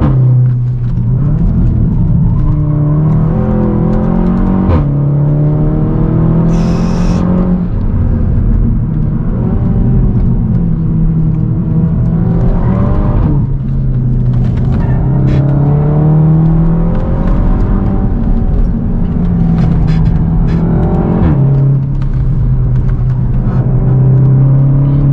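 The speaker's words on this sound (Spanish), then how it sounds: "volvimos a arrancar, adelante tenemos a Herrera, Gil, Brasi y otros dos pilotos muy buenos" Race car engine during the Vuelta a Oriente race, loud and close, roaring continuously for about 25 seconds as it repeatedly revs up through gears and drops back, with no speech over it.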